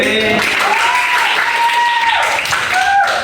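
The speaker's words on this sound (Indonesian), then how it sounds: "tepuk tangan teman" Ninth-grade students in a religion class clap for a classmate, a short burst of close applause mixed with voices calling out over it.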